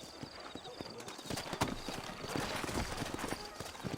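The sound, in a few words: horses clip-clopping, from video game Red Dead Redemption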